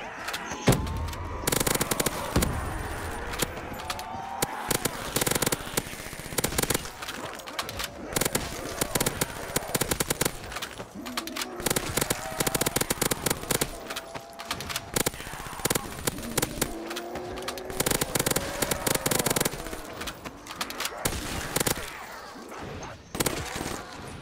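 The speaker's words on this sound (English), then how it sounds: "I'll just throw all my grenades." Rapid bursts of gunfire and blasts from Black Ops 3 zombies mode crackle repeatedly throughout, choppy and loud with brief pauses between volleys.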